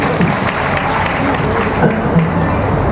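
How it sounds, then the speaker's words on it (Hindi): Steady, loud applause from an audience at a DXN business success-story talk, a dense wash of clapping with some voices mixed in throughout. "एक डी एक्शन के लिए जोरदार ताली होना चाहिए।"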